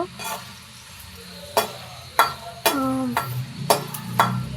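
Green chillies frying in a pan give a low sizzle, broken by several sharp scraping and clattering strokes of stirring at irregular intervals, close by and with no talk.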